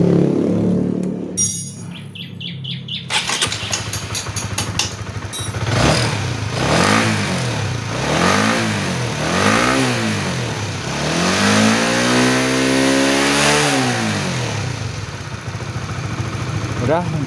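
A Honda CB150R motorcycle with a leaking fuel pump starts during injector cleaning. After a short crank, the engine catches and idles unevenly, revving up and down in repeated swells that end in a longer, rising rev, close and loud.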